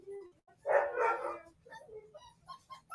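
A puppy gives a short burst of barks, close and fairly loud, followed by softer yips and whimpers.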